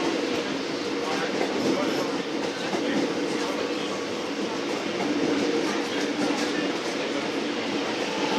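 A Melbourne Metro train running a Melbourne Cup special rumbles steadily and continuously nearby, with faint wheel clatter throughout and no clear break.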